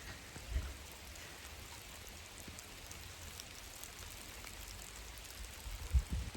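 Steady rain falls on a home garden, a dense, even hiss of drops throughout with a couple of brief nearby knocks, and no voices.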